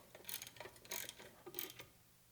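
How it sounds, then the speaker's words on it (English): A bolt is tightened down on a 3/8-inch chunk of steel during a GM 12-bolt rear differential job. Three or four quiet ratcheting clicks come in short bursts, faint and close, with no speech. "And I'm going to tighten this down so it's not wobbling around."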